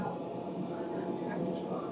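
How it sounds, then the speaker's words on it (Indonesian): Approaching train led by a locomotive on a European rail line between Graz and Zagreb: a steady, broad rumble swells faintly with a brief high squeal of wheels, with people talking over it. "Ada kereta datang dari arah sana."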